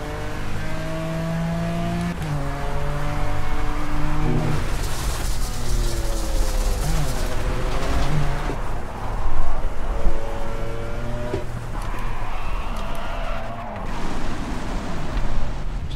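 Race car engine in Project CARS, loud and close, revving up through repeated rising gear runs with sharp shifts, engine braking and brief tire squeals.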